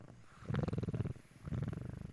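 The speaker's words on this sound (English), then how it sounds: "Can you hear him meowing or purring?" Faint cat purring, two rhythmic rumbling bursts close to the microphone, each pulsing steadily for about a second with a short pause between, no talking over it.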